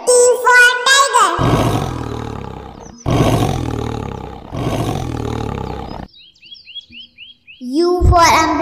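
A tiger roars several times in loud, rough bursts, separated by brief gaps. Light chirps and bird-like tones sound between and around the roars, and no voices are heard.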